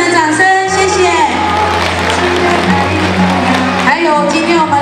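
Warm applause and cheering from the audience at a kindergarten graduation ceremony and song arts festival, a steady loud wash of clapping with whoops, mixed with music and a voice running throughout.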